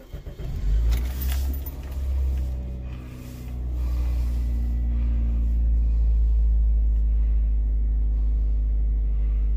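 A car engine cranks and catches after a jingle of keys, then settles into a steady, close, low idle rumble that continues to the end without talk.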